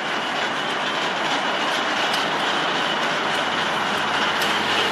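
EMAC locomotive shunting railway wagons in a rail yard, heard as a steady, loud, continuous rumble and clatter of rolling stock with no breaks and no talking.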